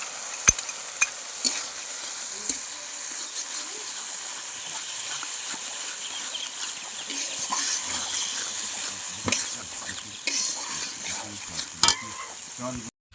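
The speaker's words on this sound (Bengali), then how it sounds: "এবার আমি ভাজা মশলাটা যে বেটেছি," Ground fried spice paste sizzles in a pan for a river mud fish curry, with a steady frying hiss broken by sharp spoon scrapes and clicks against the pan throughout.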